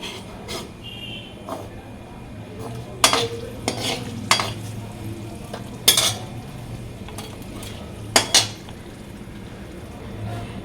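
Dried chilies frying in hot oil in a home kitchen, a low continuous sizzle under sharp intermittent clinks and scrapes of a utensil stirring against the pan.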